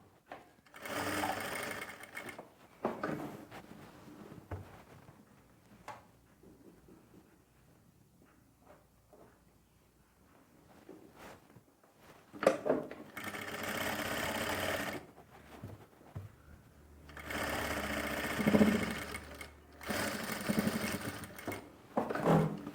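A sewing machine stitches a folded half-inch hem in a few separate bursts, with long quieter stretches of handling between them, close and fairly soft.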